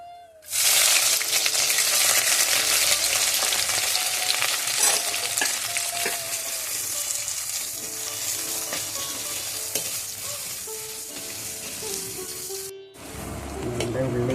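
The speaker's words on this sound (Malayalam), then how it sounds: "ചുവന്നുള്ളി, വെളുത്തുള്ളി, പച്ചമുളക്, ഇഞ്ചി, കറിവേപ്പില, ഇത്രയും സാധനങ്ങൾ ആദ്യം ഇട്ട് കൊടുത്ത് വഴറ്റിയെടുക്കാം." Loud, continuous sizzling of shallots, garlic, green chilli, ginger and curry leaves sautéing in hot oil for a fish curry, with stirring scrapes throughout and a brief break near the end.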